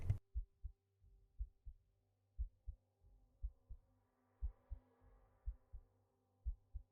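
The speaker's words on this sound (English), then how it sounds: "It's the heartbeat sounds for me, matching yeah. with what's going on." Heartbeat sound effect during a Witcher tabletop role-playing session: steady paired low thumps repeating throughout over a faint hum, with no talking.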